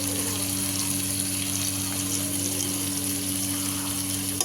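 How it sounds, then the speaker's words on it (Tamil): Tomatoes and onions fry in a pan for kuruma, giving a steady, close sizzle with a hissing, watery texture that holds evenly throughout, with no voices. "சேர்த்துட்டு நல்லா கிளறி விட்டுக்கலாம்."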